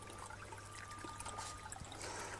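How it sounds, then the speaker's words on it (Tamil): Water trickles steadily back through the return pipe of a rooftop garden irrigation setup, a soft continuous splashing dribble heard close, with a faint steady hum beneath it. "இந்த பைப் வழியாக தண்ணி வந்து ரிட்டர்ன் வந்துட்டு இருக்குது"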